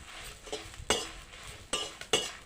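Chillies and garlic frying in oil in a pan for a village-style mango chutney, a soft sizzle punctuated by a few sharp scraping stirs of a spatula.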